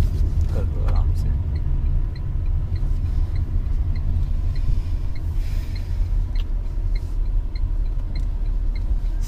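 A 2021 Tata Nexon drives along, its engine and road noise a steady low rumble inside the cabin, with people talking over it.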